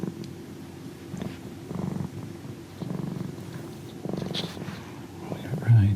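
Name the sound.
cat purring close to microphone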